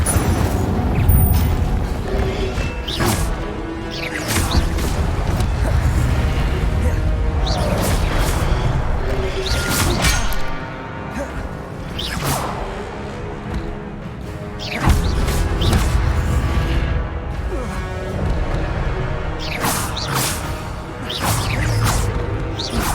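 Incendio fire spells in Hogwarts Legacy burst out as repeated whooshes, booms and crashing impacts every few seconds over game music, mixed with other spell effects.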